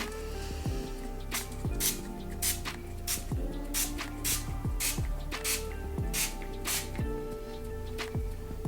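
A trigger sprayer sends repeated short hissing bursts of Odif fabric booster onto fabric protecting a table, up close over a constant background hum; no speech.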